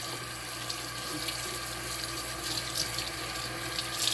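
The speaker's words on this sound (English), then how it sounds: "rinse it out real good" Steady tap water running and splashing into a sink while rinsing a whole raw chicken, a continuous rushing hiss with no voices.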